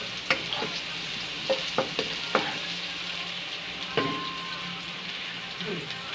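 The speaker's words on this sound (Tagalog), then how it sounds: "Sibuyas. Halo-haloin hanggang maging golden brown." Onions are stirred and fried in a pan, on their way to golden brown, with a steady sizzle under sharp spatula scrapes and clinks that come in short bursts.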